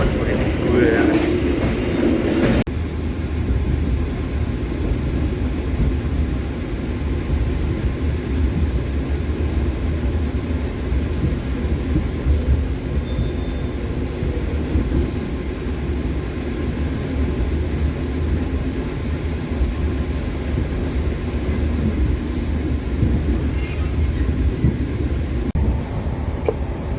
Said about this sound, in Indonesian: kereta api Argo Muria barusan melintas langsung di stasiun Haurgelis